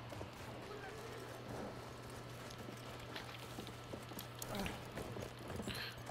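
Horse hooves clip-clop at a gallop during a Battlefield 1 multiplayer match, steady but fairly faint beneath a low engine-like drone and scattered battle noise.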